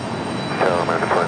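A jet airliner takes off from runway 5 right at Raleigh-Durham International Airport. Its loud, steady engine roar holds close and continuous, with a brief swell partway through.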